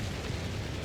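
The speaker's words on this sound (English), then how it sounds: "all the artillery rains down at this position" Artillery barrage in the Company of Heroes 3 video game on the Monte Cavo map: a dense, continuous rumble of explosions filling the whole moment, loud and unbroken, with no voices.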